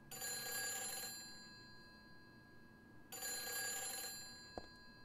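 Telephone ringing in the horror video game Silent Hill 3, two bright electronic ring bursts separated by a pause, heard alone over a low hum with a brief click near the end.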